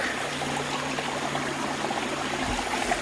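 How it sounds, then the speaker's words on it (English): Tiny cascades along an unnamed forest brook running slowly in summer give a steady, even wash of trickling water that stays close and constant throughout, with no voices. "Got these tiny little cascades along this unnamed brook."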